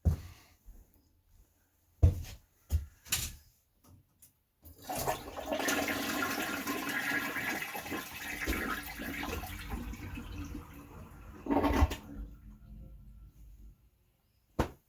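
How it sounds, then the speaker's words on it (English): A newly installed toilet on a septic system flushes for the first time with a loud rushing swirl of water lasting several seconds, preceded by a few sharp clicks and clunks, then the tank refilling quietly. "Looky there. First flush."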